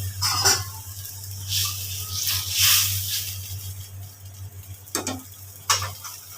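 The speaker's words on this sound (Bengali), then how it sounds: "এবার দিয়ে দেব ভেজে রাখা মাছগুলো।" Fish pieces, fried beforehand, go into a hot pan of home-cooked curry with a soft steady sizzle, broken by a few sharp clinks and stirring scrapes near the mic; a low hum runs underneath throughout.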